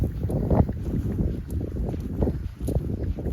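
Outdoor wind gusting against the microphone during a brisk walk, a rough low rumble that swells and dips steadily throughout with no voices.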